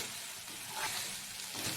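Chopped onion roasting in a hot pan, a steady close sizzle with soft scraping as it is stirred, continuous and fairly quiet with no talking.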